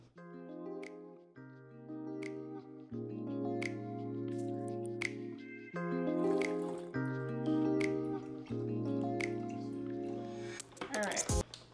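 Bottled water pours into a container in several successive fills, each giving a steady gurgling tone that climbs in pitch as the level rises, with short breaks between bottles and a splashy finish.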